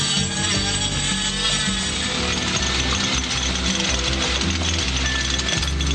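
Jackhammers pound steadily through more than a meter of steel-reinforced concrete, a dense, continuous mechanical rattle that stays loud and close throughout without pause.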